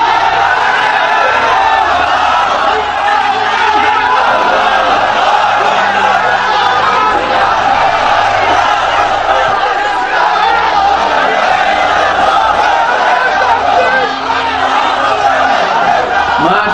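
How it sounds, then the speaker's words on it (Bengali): A large crowd at a religious lecture shouting takbir together, a loud, sustained roar of many voices filling the space without a break. "তাকবীর দেন তো একজন আওয়াজ করে।"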